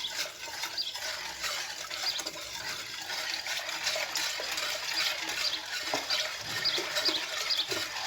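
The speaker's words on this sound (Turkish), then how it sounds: "Hem döküyorum sütümü hem karıştırıyorum." One litre of milk pours into a pot while being stirred, giving a steady close liquid splashing and gushing with soft scraping, alone and fairly quiet.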